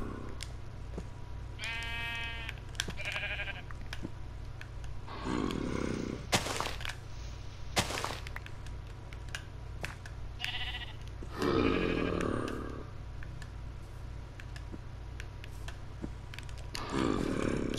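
Sheep bleat in the Minecraft video game, several short bleats scattered over a steady low background hum, with other bursts of game sound in between.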